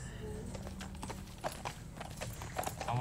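A horse's hooves clip-clop in a steady trotting rhythm, set in 1893 in Loki season 2 episode 3, mixed with background bustle and faint voices.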